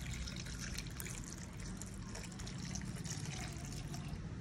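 Water is poured into a cooking pot while making badam ragda, a steady, continuous trickle and splash that runs for the whole stretch at an even level, with no voices.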